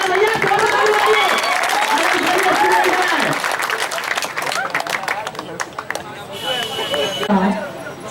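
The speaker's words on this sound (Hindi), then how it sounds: "जोर से ताली बजाइए।" A crowd at a public gathering in Darbhanga claps loudly and continuously, the applause thinning out toward the end while a speaker's voice carries over it.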